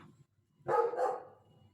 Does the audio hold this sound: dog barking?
yes